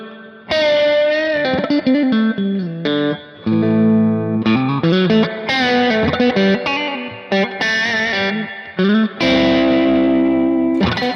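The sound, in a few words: guitar through Kemper Profiling Amp spring reverb effect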